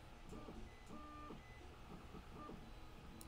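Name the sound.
3D printer printing a part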